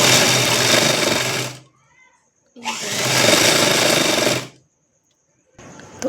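Two loud bursts of a sewing machine stitching the seams of a baby's dress, each running a second or two before stopping, separated by quiet pauses and ending with a brief restart.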